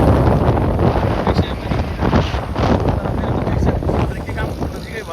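Strong typhoon wind in Okinawa roars and buffets against the microphone, a loud, continuous broadband rush with gusty swells throughout.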